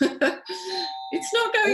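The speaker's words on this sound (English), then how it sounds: "But that's my doorbell going." A doorbell rings at home during a live online interview, a steady electronic tone sustained for about a second beneath and between a person's speech.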